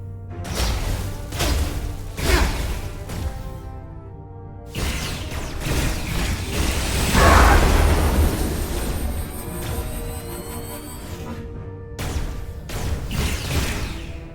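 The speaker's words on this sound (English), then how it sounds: "Objectives with the marker over them will explode when shot." Explosions from the game Star Trek: Resurgence, where shot objects blow up after a short delay; a loud, dense stretch of bursts and crashes over music, with the heaviest blast near the middle.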